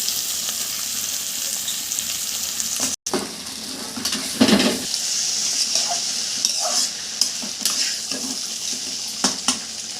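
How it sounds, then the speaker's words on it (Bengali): Cut eggplant pieces go into hot oil in a wok and a loud, steady sizzle starts, with a few stirring scrapes and knocks and no talking. "এবার কেটে রাখা বেগুনগুলো কড়ার মধ্যে দিয়ে দিলাম"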